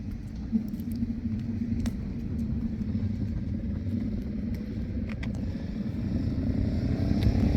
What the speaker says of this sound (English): my motorcycle guys have left. They were pretty loud when they left